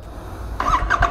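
A motorcycle engine cold-starts up close: a quiet lull, then a sudden squealing crank and sputtering catch with a couple of brief revving bursts.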